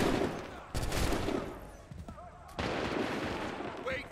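A musket volley erupts in Assassin's Creed 3, a loud burst of massed gunfire followed by a second crackling round of shots with lingering rumble, and a commanding voice in between.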